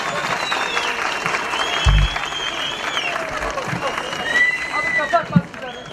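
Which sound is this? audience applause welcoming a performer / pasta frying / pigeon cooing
audience applause welcoming a performer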